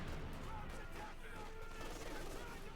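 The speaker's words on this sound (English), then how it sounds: "the German army sends in to cover the squad there to just hammer them with light machine guns" Light machine guns fire in a Company of Heroes 2 battle between Wehrmacht and US Forces. Dense, fairly faint bursts of automatic gunfire rattle continuously, blended with other battle noise and a murmur of voices.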